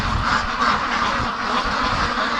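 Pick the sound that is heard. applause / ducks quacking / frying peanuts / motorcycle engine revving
ducks quacking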